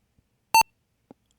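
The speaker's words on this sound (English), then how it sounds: "let's see if we get the PC speaker beep" A single short, clear PC speaker boot beep from a vintage computer with an ISA sound card, close and loud, followed by a faint click in otherwise near silence.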